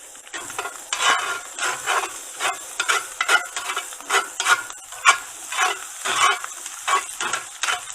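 Pork belly with apple bacon sears in a hot pan, close crackling sizzle in rapid uneven bursts with scraping stir sounds throughout.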